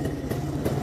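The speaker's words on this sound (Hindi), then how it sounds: "ये अभी आपकी गाड़ी स्टार्ट है और बाइक का आप साउंड सुन सकते हैं।" A restored Rajdoot 175 motorcycle engine idles after a kick start, producing a steady, low, throbbing rumble close by with no voices over it.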